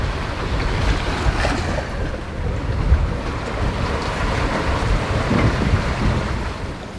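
Sailboat running downwind on the open ocean at night with two sails up, a continuous loud rush of waves and wind against the hull with irregular surges, no voices.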